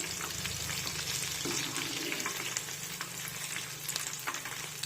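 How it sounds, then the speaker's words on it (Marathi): Ridge gourd fritters deep-fry in hot oil, giving a dense, continuous bubbling sizzle at a steady, fairly loud level, with light stirring movements mixed in. "उलटपुलट करत छान सोनेरी रंगावर तळून घेऊया."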